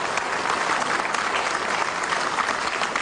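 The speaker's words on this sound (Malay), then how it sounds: "Kita berikan tepukan kepada Tan Sri dengan semua inisiatif itu." Steady, dense audience applause at a televised interview with the Chief Minister of Sarawak, loud and continuous throughout with no talk over it.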